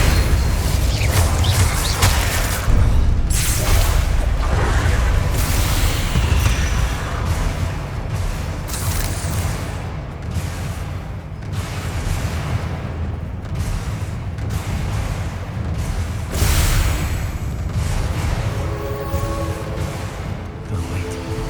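Dense, loud spell blasts and booming impacts from a spider fight in the video game Hogwarts Legacy, with explosive hits and crackling bursts layered continuously over a game soundtrack.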